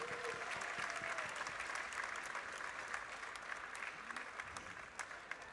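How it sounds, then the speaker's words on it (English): Crowd in a school gym at a boys' basketball game applauding senior cheerleaders, a sustained wash of clapping at moderate distance, steady throughout with scattered sharper claps near the end. "Let's give one more big round of applause for all of our senior cheerleaders."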